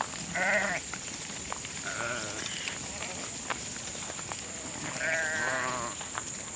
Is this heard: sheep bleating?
yes